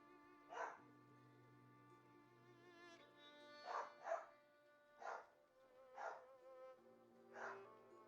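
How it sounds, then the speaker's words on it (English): Several dogs barking in the background, a series of short, distant, faint barks spaced irregularly over a quiet backdrop of steady tonal music. "Got some wild beasts barking in the background."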